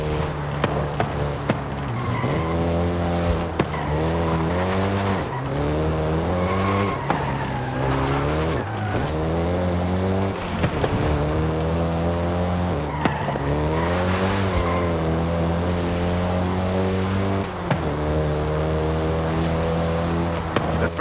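Volkswagen Golf GTI in Forza Horizon 5, set in Mexico, with a steady loud engine drone that rises and falls through gear changes, plus repeated tire squeals and skids across the run, and no talking.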